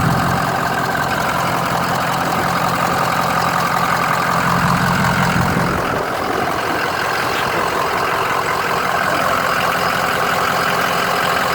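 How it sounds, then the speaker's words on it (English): A 2010 Ford E-450 truck engine idles smoothly and steadily with a low, constant rumble throughout, close and loud, with a slight shift in tone partway through and no talking. "The engine sounds just like it should, idles smoothly."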